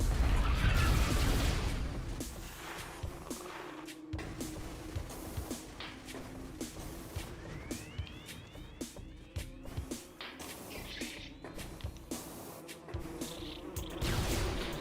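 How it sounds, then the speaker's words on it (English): Bees buzzing in Metroid Prime Remastered, a soft insect drone with rising chirp-like sweeps under low rumbling ambience and scattered clicks, steady and fairly quiet throughout. "The bees."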